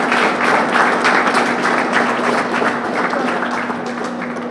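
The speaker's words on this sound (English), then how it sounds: "let's give them a round of applause as well" An audience at the Windward Islands Schools Games introduction for Team Saint Lucia applauds in steady, dense clapping that stays loud throughout and tapers slightly at the end.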